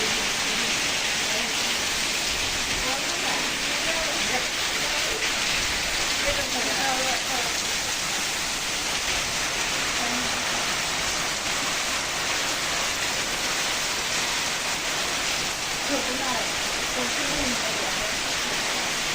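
Heavy rain pours steadily onto trees and coconut palms in green countryside, a dense, continuous hiss close by with no breaks.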